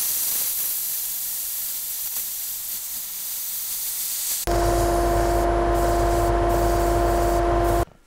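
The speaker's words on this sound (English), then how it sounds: "Okay, so I've sanded that back" Someone sands back airbrushed paint on a textured shield, producing a steady close hiss of abrasion that becomes louder and harsher partway through, accompanied by a constant tonal hum, then stops abruptly.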